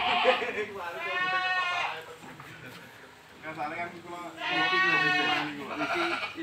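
Saanen goats in pens at a village dairy goat farm bleat loudly in long, wavering cries, two strong calls about three seconds apart, with fainter bleats and a person speaking between them.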